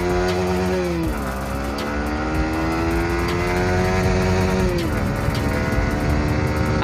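A Yamaha R15 v3 motorcycle engine revs hard through one gear on a night ride, its whining tone climbing steadily, dropping briefly near the second mark, then rising again and falling back near the end, loud and close with no talk.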